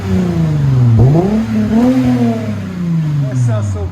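A 2008 Lexus IS 250 2.5L V6 fitted with a Megan Racing exhaust blips its throttle several times, the clean exhaust tone rising and falling in quick close pulses over a steady idle.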